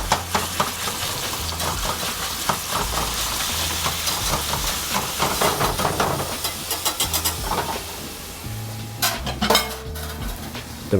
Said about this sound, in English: Just use the whisk to kind of mash it in,